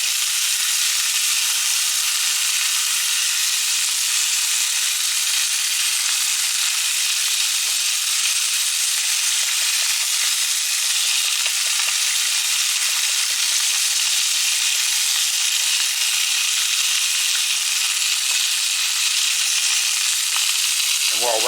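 Scotch fillet steaks sizzle steadily in a frying pan, giving a loud, continuous hiss that stays level from start to finish with faint clinks beneath it.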